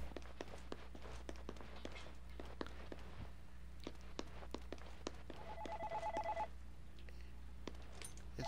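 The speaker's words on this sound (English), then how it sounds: "the only problem with that is the phone's ringing" A telephone rings in a horror video game, a faint repeated electronic ring heard among sharp footsteps and clicks over a low droning ambience.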